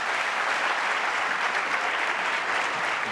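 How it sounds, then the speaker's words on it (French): Audience applause breaks out at a comedy show in a Paris theater, a dense, steady wash of clapping from a full room that holds evenly throughout. "Veuillez, s'il vous plaît, l'applaudir."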